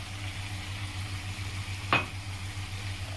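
Coriander powder is stirred into onions frying in a pan, with a low, continuous sizzle and one short clink of a utensil midway.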